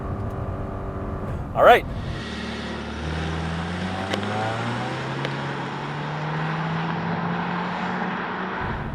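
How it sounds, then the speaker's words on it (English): A 2024 Subaru Impreza RS with a CVT pulls away under throttle, its engine note rising steadily and smoothly as it accelerates, with a brief spoken exclamation near the start. "Brake boost. Well, I got a little bit more. Let's go CVT."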